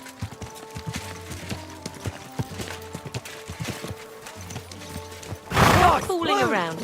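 Horse hooves in Kingdom Come Deliverance 2 clip-clop in a steady, close rhythm, then a loud whinny rises near the end.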